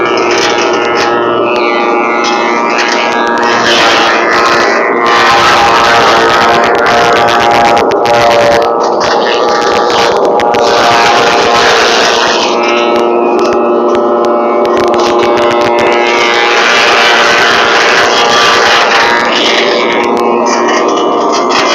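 A high-speed fodder-cutting machine runs continuously, a loud droning whine with mechanical rattling that swells and eases as material is fed through, close by and unbroken, with voices talking faintly underneath.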